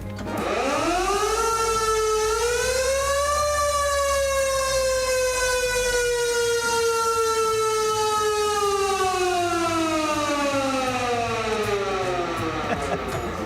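A loud wailing siren on a 1971 Cadillac ambulance winds up, holds a long steady howl, then slowly winds down, close and continuous.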